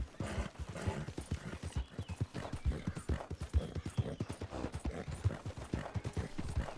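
Horse hooves in the video game Red Dead Redemption 2 clop in a quick, steady galloping rhythm, close and prominent, with no voices over them.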